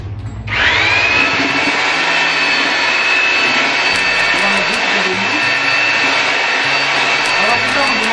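A mortar mixing machine stirs instant plaster mortar, giving a loud, steady motor whine and churning roar that starts abruptly after a brief quieter moment and holds constant to the end.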